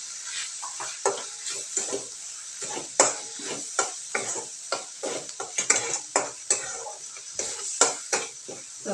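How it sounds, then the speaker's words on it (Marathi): Dry mutton masala mixture with white sesame seeds being stirred in a pan, a spoon scraping and tapping in steady irregular strokes over a soft continuous sizzle, close up with no talk. "सर्व मिश्रण एकजीव करायचं."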